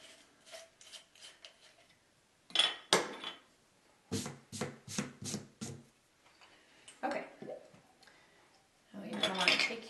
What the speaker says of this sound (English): go ahead and mix it in a mason jar and just mix it